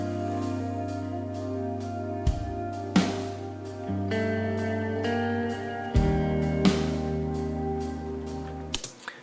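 A looped drum pattern plays steadily over sustained synth tones, with regular percussive hits and occasional louder accents, no voices.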